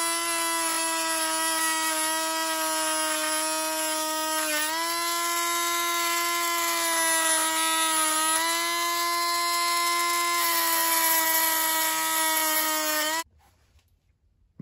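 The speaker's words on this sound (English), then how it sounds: "So now I gotta drill a flat spot onto there." A loud, steady high-pitched whine of a power drill drilling a flat spot during a WPL transmission repair, running continuously for about thirteen seconds, dipping slightly under load, then cutting off abruptly.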